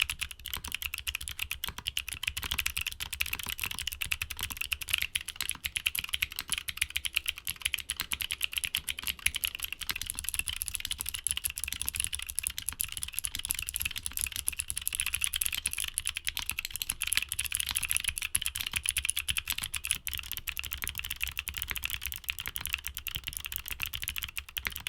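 Steady, fast typing on a clicky mechanical keyboard, crisp high clicks running continuously at close range with no voices.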